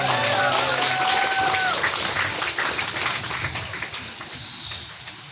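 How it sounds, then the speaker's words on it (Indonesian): Children applauding at a school event marking an agreement with a vocational high school, dense clapping that starts loud with a few voices over it and slowly thins toward the end. "Minta tepuk tangan anak-anak."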